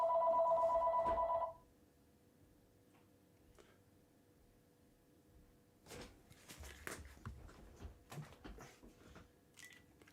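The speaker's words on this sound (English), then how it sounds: "Did you hear the phone ring?" A telephone gives one short, loud electronic ring burst at the start, then falls quiet, followed by soft clicks and handling sounds nearby.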